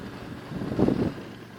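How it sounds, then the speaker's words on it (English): Wind buffets the microphone during an early-morning ride from home, a short low rumbling gust that swells in the middle and then eases, with no talking. "A little windy this morning,"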